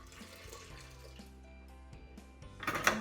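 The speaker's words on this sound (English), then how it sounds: "So now we're going to pour our water mixture into our" Water mixture poured from a container into a bowl of flour while making homemade play dough, a steady close splashing trickle that swells into a louder, bright gush near the end.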